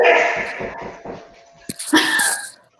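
Dog whimpering in short repeated whines, then a sharper yip or bark near the end, fairly close and moderately loud with no talk over it.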